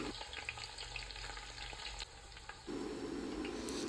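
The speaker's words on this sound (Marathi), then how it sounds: "तेल गरम झाल्यानंतर त्यामध्ये वाटून घेतलेलं लसूण त्यानंतर त्यामध्ये दोन उभ्या चिरलेल्या हिरव्या मिरच्या घेतलेल्या आहेत ते या तेलामध्ये टाकून द्यायच्या आहेत" Crushed garlic and two slit green chillies frying in hot oil for a dried mandeli fish curry, a steady close sizzle that swells louder toward the end.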